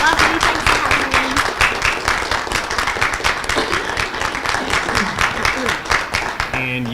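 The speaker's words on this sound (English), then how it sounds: "let's give GiGi Edgley a warm round of applause" Audience at a comic con panel gives a sustained round of rhythmic applause and clapping, loud and continuous, with voices talking over it.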